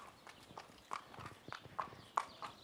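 A ridden horse's hooves clip-clop in an uneven walking rhythm, several sharp knocks close by and fairly faint, with no talking over them.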